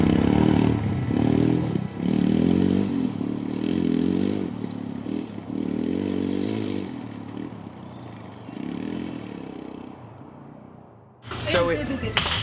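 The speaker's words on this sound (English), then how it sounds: "jumping on your motorcycle and just going for a ride" A Royal Enfield Himalayan motorcycle rides through the Basque Country near San Sebastian, its engine a close, pulsing low rumble with shifting revs and wind noise, ending in a sharp clattering burst.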